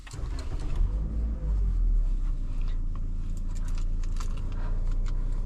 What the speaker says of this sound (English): Let's go ahead and start this car.